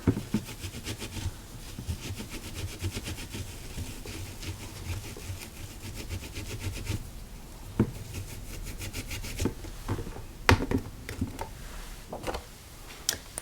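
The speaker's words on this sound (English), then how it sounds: "So I'm going to clean my Cajun Craze ink off." Cajun Craze ink being wiped off a clear plastic stamp with a cloth, giving soft, steady rubbing and scrubbing strokes close up, with a few sharper taps and knocks toward the end.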